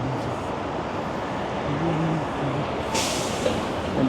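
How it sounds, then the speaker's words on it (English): An MBTA bus rolls along Washington Street in Boston's South End, a low engine rumble amid street traffic, capped by a short hissing burst of air brake release. "MBTA bus."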